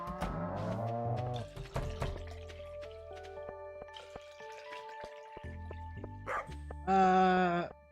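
A dog barks and whines up close, with a few scattered clatters, then a loud, sustained yelp near the end.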